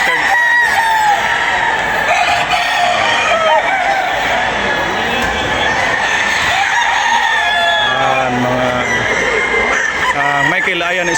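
Gamecock roosters at a game-fowl expo in Cebu crow loudly and cluck, several birds overlapping close by and continuously, with someone talking over them throughout.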